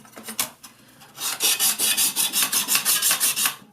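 A steel card scraper is rubbed flat against sharpening stones, giving crisp rasping strokes: a few scattered scrapes at first, then a quick, even run of about a dozen rhythmic back-and-forth passes, close and clear with no talking.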